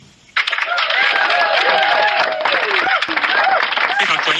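Clapping rises suddenly after a brief quiet start during a livestream and then carries on as dense, lively applause with voices mixed in over it.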